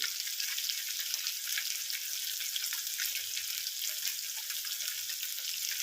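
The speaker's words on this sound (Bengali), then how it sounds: "এইভাবে মাছগুলো ভেজে নিয়ে আমি ফেরত আসছি" Pieces of fish fry in a pan of oil, giving an even, hissing sizzle that stays steady and fairly close for the whole stretch, without any speech.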